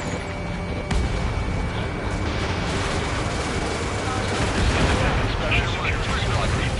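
Dense, continuous gunfire and explosions in the combat flight game Ace Combat 7, a loud roaring wash of battle noise with no clear pauses, mixed with game voices.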